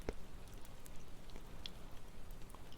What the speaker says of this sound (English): how is the rain and fireplace sound?